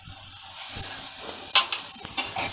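Onion softening as it fries in a pan for a dry green cowpea-pod (chavli) bhaji, a steady close sizzle broken by a few sharp scraping stirs of a spatula.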